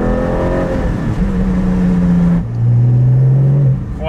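Porsche 718 GT4 fitted with a titanium slip-on exhaust, revving loudly up and down with a deep, throaty tone, two sustained pulls separated by a brief lift-off, close and without talk.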